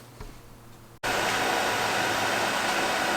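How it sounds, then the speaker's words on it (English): A buffing wheel motor switches on abruptly after a quiet moment and runs with a loud, steady whirring roar in a pen-turning workshop. "I'm going to get to the buffing wheels here."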